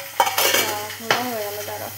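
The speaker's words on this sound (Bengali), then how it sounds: "এখন মাছ ভাজা হচ্ছে" Fish fries in a home kitchen pan with a constant soft hiss beneath sharp utensil clanks, joined by a few wavering squeaky tones.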